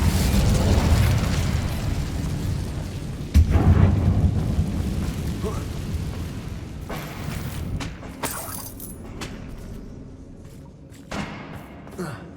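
A fire spell cast in Hogwarts Legacy inside a closed mine, giving a heavy whooshing burst of flame, then a second thumping eruption and a crackling tail.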